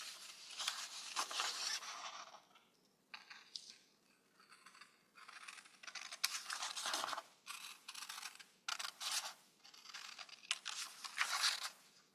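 Scissors snip steadily through paper, cutting out a shape in repeated bursts of crisp slicing with short pauses between strokes, close and fairly quiet.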